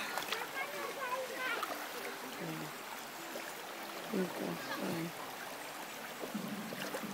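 A child plays and splashes in river water at Hamamatsu while the stream flows steadily underneath and adults talk over it.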